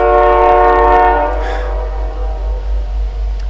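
A passing train sounds its horn in a loud, sustained multi-tone blast near an outdoor shooting range. The horn then cuts off, leaving a lower rolling rumble of the train that continues under it, with no talking.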